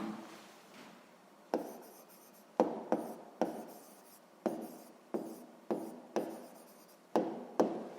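Handwriting on paper during a sixth-grade maths exercise, a pen scratching out short strokes with about ten sharp taps and scrapes, close and quiet with no talk.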